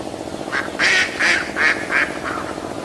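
Several loud duck quacks in a quick, uneven series, close by, fading into a faint background hum.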